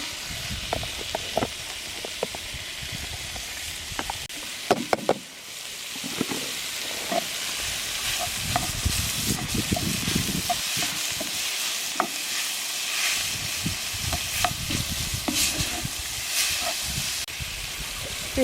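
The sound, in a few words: meat searing over coals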